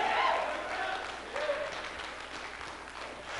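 A church congregation applauding during a sermon, a soft, fairly distant patter of many hands that swells briefly and then thins out, with faint voices mixed in.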